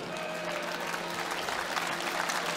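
An audience at a farewell concert applauds a singer, steady dense clapping at moderate volume with a faint tonal hum beneath, no voices over it.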